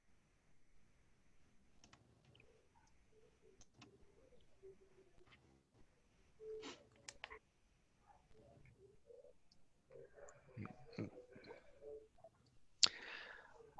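Faint, irregular keystrokes click on a computer keyboard in a quiet room, scattered taps and short runs with one sharper click near the end.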